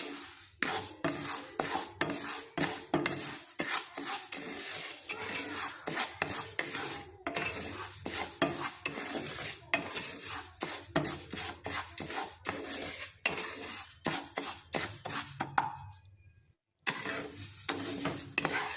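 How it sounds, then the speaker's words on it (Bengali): Sona moong dal dry-roasting in a pan over medium heat while being stirred constantly, giving dense repeated scraping and rasping strokes in a steady rhythm, close and fairly loud, with a brief pause near the end. "এবার পুলি বানাতে সোনামুগ ডাল মাঝারি আঁচে ক্রমাগত নেড়ে হালকা বাদামি করে ভেজে নিতে হবে।"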